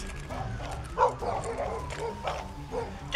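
A dog barks and yips in a tense outdoor confrontation, with short sharp barks and whimpers over a low background rumble and faint voices, the loudest bark arriving right at the end.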